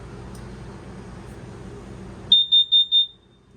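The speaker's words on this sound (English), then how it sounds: "we have an LP carbon monoxide detector. It's going to give you this little annoying sound" An LP carbon monoxide detector alarm inside a Forest River Salem toy hauler RV, sounding four sharp, shrill beeps in a quick even rhythm after a stretch of soft background room noise.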